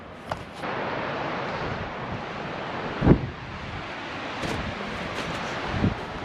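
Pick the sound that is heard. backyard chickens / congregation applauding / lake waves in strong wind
lake waves in strong wind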